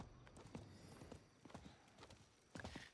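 Horse hooves clip-clop in the Diablo 4 video game, a steady rhythmic trot of several hoofbeats with a soft whinny, heard alone at low level.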